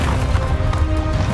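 The Bombarda spell goes off in Hogwarts Legacy as a short, dense blast, loud and brief with a rumbling low end.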